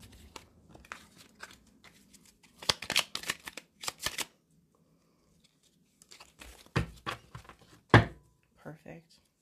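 Tarot cards shuffled and handled during a reading, with irregular bursts of riffling, slapping and shuffling, close and fairly loud, between pauses.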